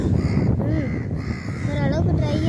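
Several crows caw repeatedly close by, their harsh calls rising over a steady outdoor background while a person talks, near a tray of palm fruit snack left to dry.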